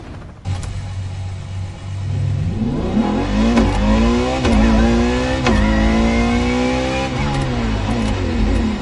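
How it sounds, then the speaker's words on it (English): LaFerrari supercar in The Crew Motorfest on PS5: a low idle rumble, then a loud, close engine rev climbing steadily in pitch through several surges before easing slightly at the end, with no voices. "the fastest and most exhilarating road car ever made by the prancing horse, LaFerrari"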